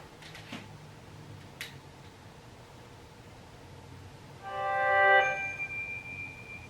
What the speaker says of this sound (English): My phone be going off.